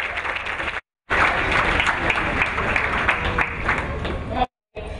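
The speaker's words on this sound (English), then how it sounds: "Please, a round of applause for them again." A crowd applauding loudly and steadily, dense clapping filling the room, with two brief gaps of silence.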